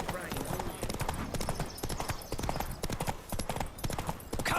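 Galloping horse hooves in a race in the video game The Witcher 3, a fast, steady clip-clop rhythm running throughout at close range, with voices shouting over the hoofbeats.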